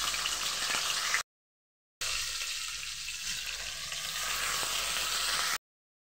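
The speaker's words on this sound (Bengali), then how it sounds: "মাছ ভাজবো বলে সর্ষের তেলটা দিয়ে দিলাম" Fish pieces frying in hot mustard oil, a fairly faint, even sizzle broken by two short dead-silent gaps.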